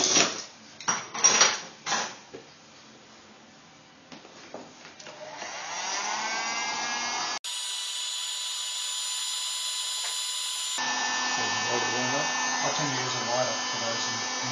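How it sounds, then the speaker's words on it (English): A heat gun blows hot air onto heat shrink tubing during a power supply build. After a few sharp clattering handling knocks, it settles into a steady, continuous whooshing hiss. "Some heat shrink on, just got to plug in the heat gun."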